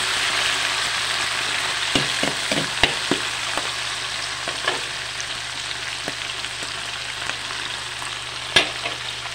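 Shrimp frying with golden-brown onions in a pan for pansit guisado: a steady, close sizzle with occasional sharp clicks and taps of stirring, no talking.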